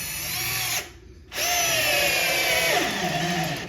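A Bosch 12V driver whines loudly, driving a screw at speed setting 2 into wood, with a short pause after the first burst, then a longer run that drops in pitch as the screw seats deep.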